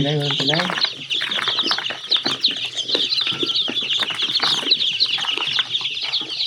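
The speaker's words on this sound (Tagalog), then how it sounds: "Ang dami ang sisiw." A large batch of chicks peeps in a dense, continuous chorus of high, overlapping chirps that stays loud and close throughout, with a brief low voice at the very start.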